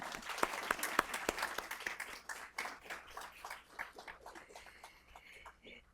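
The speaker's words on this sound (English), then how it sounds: "a round of applause for everyone" Audience applause at a quarterly awards ceremony, a room of people clapping steadily with sharper individual claps early on, the sound thinning and fading toward the end.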